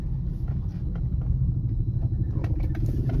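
A car running on LPG, in second gear with the AC off, rolls over a railway track crossing on a rough road, giving a low steady engine and tyre rumble with a few light knocks and rattles near the end.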